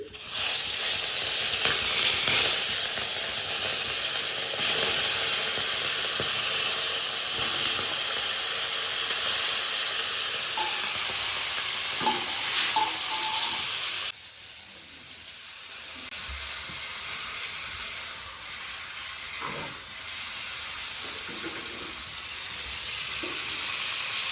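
Fish frying in a pan alongside fried potato and plantain, a loud continuous hissing sizzle that drops suddenly partway through and then carries on more softly, with occasional faint clinks, close by.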